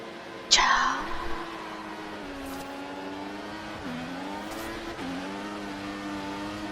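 Video-game Formula 1 cars launch from the grid at the German Grand Prix, a sharp burst of tire screech and rising engine whine at the start, then layered revving engines climbing and shifting steadily under an excited commentator's voice.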